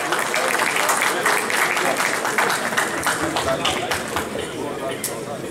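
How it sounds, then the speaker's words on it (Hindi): An audience at a mushaira poetry gathering bursts into hearty applause for a poet, dense, loud clapping that fills the room and slowly thins toward the end. "आपकी भरपूर तालियों में"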